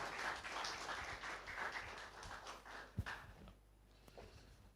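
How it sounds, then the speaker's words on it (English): An audience at a university science event in Ghana gives a round of applause, faint and somewhat distant clapping that fades away toward the end. "Give him a big round of applause."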